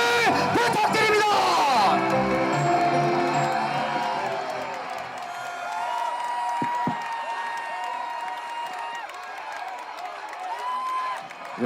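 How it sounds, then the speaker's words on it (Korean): Crowd applause and cheering at an outdoor political rally, a dense roar of clapping and shouts that swells and holds, with an announcer's amplified voice over it. "큰 박수와 함성을 부탁드립니다"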